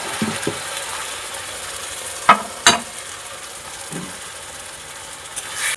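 Spices for a raw banana kofta curry are stir-fried in a pan with a splash of water, giving a soft, steady sizzle punctuated by a few sharp spatula scrapes and clanks.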